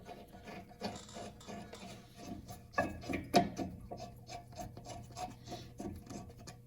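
Rear brake parts on a VW Routan minivan being jiggled by hand, giving soft irregular rubbing and rattling scrapes of metal with a couple of sharper clicks, close up and alone.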